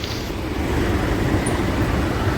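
Luxury buses arrive at a roadside stop at Shantaram Talav in Malad, producing a dense, steady low rumble of engines and road noise throughout, loud and continuous, with no voices.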